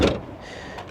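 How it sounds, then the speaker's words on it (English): A Dodge Challenger Scat Pack Wide Body door handle is tried on a door that will not open: one short clunk right at the start, then a low, steady hum for the rest. "I forgot that door doesn't open again."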